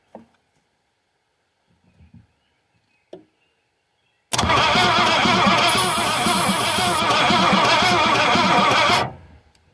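A Fox Body car engine is cranked after a few faint clicks and taps, grinding steadily and loudly for about five seconds without catching, then cutting off.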